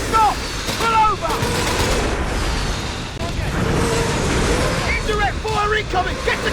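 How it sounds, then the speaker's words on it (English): Artillery shelling and small-arms gunfire from a Company of Heroes 3 4v4 battle, bursts of rapid shots and booming impacts layered densely and loudly, with soldier voice callouts over the din. "Indirect fire incoming! Get to cover!"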